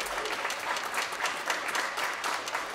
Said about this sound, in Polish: Oklaski dla naszych wokalistów.